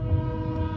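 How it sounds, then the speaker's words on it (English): A train passing close by with its horn blaring, the sustained tonal blast sitting over a rumbling low roar, loud and continuous for a brief moment with no talking. "Train is coming."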